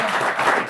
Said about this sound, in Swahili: Wapi makofi ya Dr. Juma?